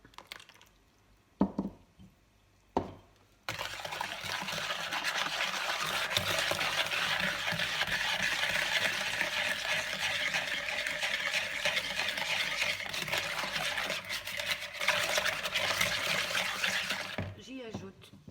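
Cake batter is whisked in a bowl while milk and oil are added, a steady wet swishing and stirring that runs continuously after a few soft knocks at the start.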